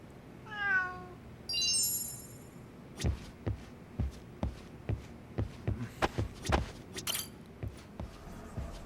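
A cat in the video game Lost Judgment gives a couple of clear, close meows with rising and falling pitch, followed by a run of evenly spaced soft thumps and clicks from game sounds.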